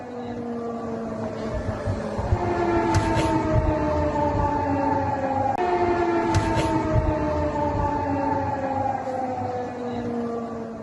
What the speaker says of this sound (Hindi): हमले के अलर्ट के लिए सायरन बजाया गया